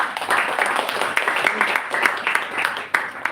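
A Toastmasters club audience applauds a panel, a brisk patter of many hands clapping close by with a few sharper claps standing out.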